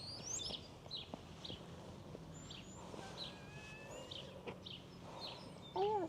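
Birds chirp and call around a quiet rural village, with several thin, scattered tweets and whistles over a soft, steady outdoor background and no talk.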